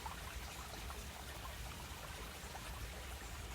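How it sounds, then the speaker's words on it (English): Water trickles and spills steadily through an overgrown beaver dam in a stream, a soft, continuous, even wash of flowing water with no voices. "you can really hear the water coming down because it is spread out by this dam"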